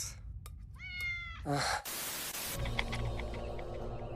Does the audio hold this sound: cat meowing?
yes